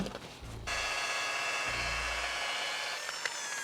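Machine polisher running on fresh car paint during a smart repair, a steady close whirring hiss that starts up and holds, with a deeper low hum briefly swelling midway.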